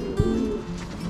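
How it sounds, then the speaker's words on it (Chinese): A pigeon gives a short low coo in a Beijing hutong near Niujie, a single soft call heard close by against quiet street ambience. "你看鸽子"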